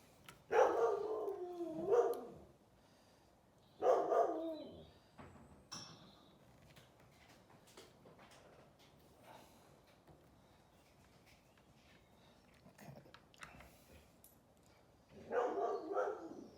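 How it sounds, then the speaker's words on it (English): Dogs barking in the background of a workshop, several clustered bursts of barking a few seconds apart, moderately distant and fairly loud against a quiet room. "Hopefully you appreciate the dogs entertaining you in the background."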